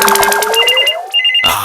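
A telephone rings indoors in a domestic scene: close, loud bursts of electronic ringing repeat rapidly, break off briefly, then resume near the end with no voices over it.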